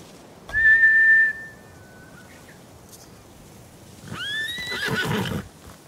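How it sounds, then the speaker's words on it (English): Samurai mounts in the video game Ghost of Tsushima give two shrill, drawn-out whinnies, one near the start and a longer, wavering one later, with quiet pauses between. "Bastards scared off the horses."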